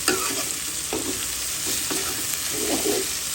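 Tomato sizzling in a pan alongside beef brain, with garlic, in a Bangladeshi-style beef brain bhuna: a steady frying hiss with a few scraping stirs of the spatula, fairly close, and no talking.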